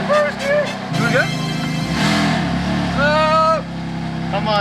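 A BMW F80 M3 engine revs in a low, loud growl that swells and falls, while people talk and exclaim excitedly over it close up.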